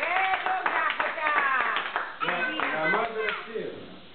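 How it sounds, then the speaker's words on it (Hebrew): Clapping from family members gathered at a grandmother's home for a fifth birthday party, a busy patter of hands mixed under children's voices and singing-like talk throughout. "תמחאו כפיים כולם."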